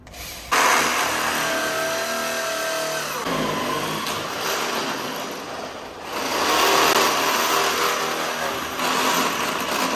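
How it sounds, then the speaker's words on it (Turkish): A power drill bores into an exterior wall while fitting an outside-mounted manual roller shutter, giving a steady, loud broadband whir that holds for about nine seconds after a sharp start, with its pitch shifting partway through. "He's gonna drill there."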